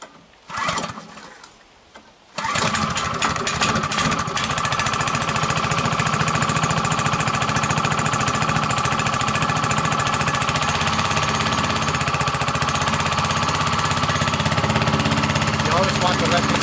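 A small gas engine on a chipper-shredder turning tree debris into mulch fires up after a brief pull and settles into a loud, steady, rattling run close by, with someone talking briefly before it starts.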